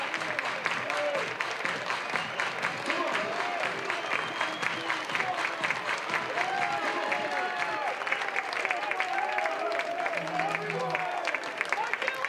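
Baseball crowd at a college game between High Point and North Carolina clapping in steady rhythm for over twelve seconds, a continuous sharp patter with scattered shouts and voices mixed in.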